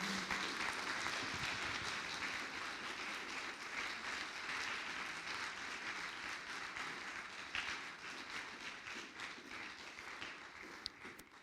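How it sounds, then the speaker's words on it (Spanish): Congregation in a church clapping in a strong, sustained round of applause for the Lord, dense and even, heard from a distance at low level and tapering slightly near the end. "Démosle un fuerte aplauso al Señor"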